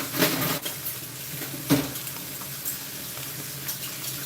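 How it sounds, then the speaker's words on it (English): Forks and spatulas being washed in a kitchen sink under a running tap, a steady water rush with a couple of clinks of utensils early on, fairly close. "Let's wash some forks and some spatulas and different things for the feast"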